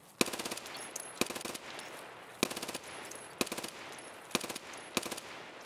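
AK rifle fire in the video game Escape from Tarkov, several short bursts of rapid, crisp automatic shots spaced about a second apart, loud and close with no talk.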